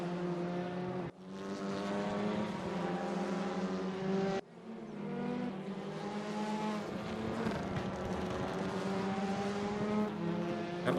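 Loud TCR racing engines in a video game race at Mid-Ohio scream continuously at high revs, with crackling backfire bursts and brief drops in pitch as gears change, all at close range.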